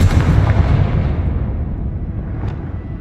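The Confringo fire spell explodes in Hogwarts Legacy, a loud, rumbling blast that fades slowly over a few seconds.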